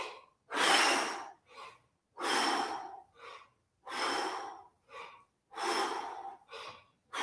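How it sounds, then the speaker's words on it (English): Deep breaths during a squat exercise come in a steady repeating cycle, each long audible breath followed by a shorter one, close and breathy, with no talking. "We're going to inhale, squat, and exhale up."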